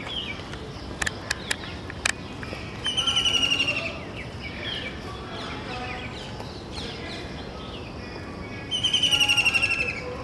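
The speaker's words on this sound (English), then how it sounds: "I'm hearing the call of a kingfisher." Two bursts of a white-breasted kingfisher's loud, rapid trilling call ring out a few seconds apart, each lasting about a second, over faint background ambience and a few brief clicks.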